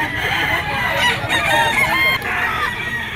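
A Kelso yellow-legged stag rooster crows at a Grotto pet market, one long, loud crow rising above steady market bustle and the calls of other fowl nearby.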